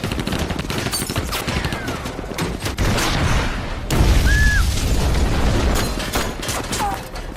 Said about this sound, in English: a group of rebels suddenly ambushed the convoy with gunfire